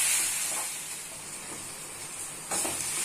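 Vegetables seasoned with turmeric and amchur powder sizzle in a pan while being stirred, a steady bright frying hiss with a sharper burst near the end.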